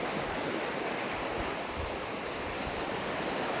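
Sea waves at high tide along the shore at Bridlington give a constant, broad wash of surf that stays even and unbroken throughout, mixed with some wind rumble.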